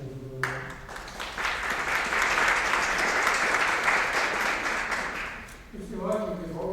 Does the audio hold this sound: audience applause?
yes